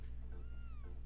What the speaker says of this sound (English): Your cat's running away because you haven't been feeding it.